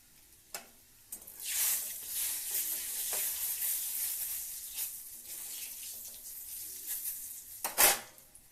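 Garlic sizzling in hot oil in a home kitchen, a steady hiss with occasional sharper crackles and clatters, fairly close and alone without talk.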